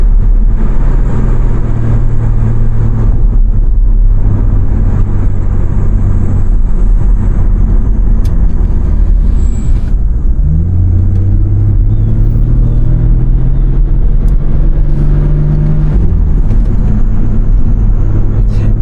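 A BMW M3 Competition accelerates on a city street, heard from inside as a loud, continuous low engine drone and road rumble that rises in pitch through the gears, with no one talking.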